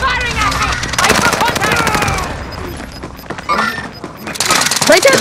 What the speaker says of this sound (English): Enemy is firing at me!